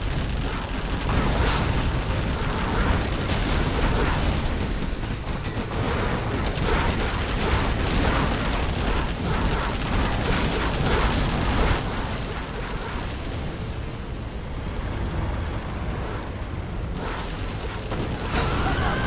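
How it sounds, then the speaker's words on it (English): Nuke cannon blasts and other explosions rumble through a real-time strategy match, dense, loud and continuous booming with bursts layered throughout, no pauses. "That nuke cannon killed a couple of Vs."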